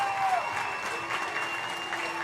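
Home crowd in the stands at a Valparaiso high school football game cheering and applauding after a touchdown, a steady broad roar of clapping and voices at moderate distance, sustained throughout.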